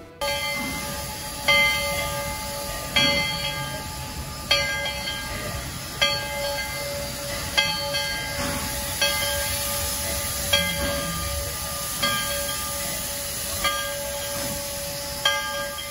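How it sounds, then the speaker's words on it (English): Restored Southern Pacific narrow gauge steam locomotive No. 18 pulls slowly onto a turntable, its bell clanging at a steady, unhurried pace over a low, continuous rolling rumble of the engine and track. "Here's number 18, the locomotive that they've restored at Laws, pulling onto a reproduction of the turntable at Laws."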